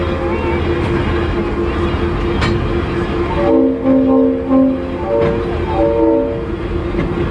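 EMD GP9 diesel-electric locomotive of 1,750 horsepower running nearby, a steady engine rumble with rail clatter, then a loud horn sounding in several blasts.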